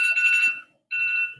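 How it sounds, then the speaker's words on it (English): An electronic alarm going off indoors, two loud close bursts of a shrill ringing tone separated by a short gap. "Oh my God! Another alarm."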